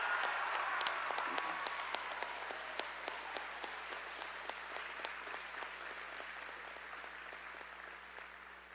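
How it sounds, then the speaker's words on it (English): Applause from the audience at a state FFA convention in South Dakota, with many hands clapping in a large hall, starting full and slowly thinning and fading over several seconds. "Let's give these folks a big round of applause."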